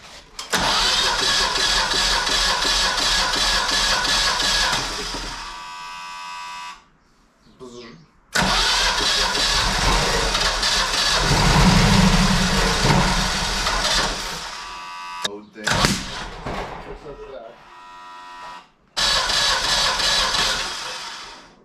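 A Generac generator engine cranking and catching, then running loud and close in raw revving bursts that cut out and restart several times, with people talking over it.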